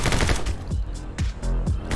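Rapid gunfire in the action game My Friend Pedro, with loud close bursts of shots in quick uneven clusters and brief gaps between them, with no talk.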